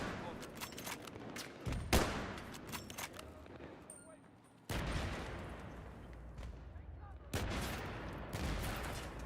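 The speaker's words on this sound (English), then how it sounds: "I spotted a hostile machine gun." Rapid bursts of automatic gunfire in the PS3 video game Battlefield 3, volleys crackling in clusters with brief gaps between them.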